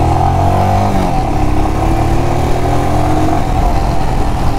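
Royal Enfield Himalayan motorcycle accelerating hard in first gear, loud and close, its engine pitch rising steadily through the revs with mechanical clatter and wind rush.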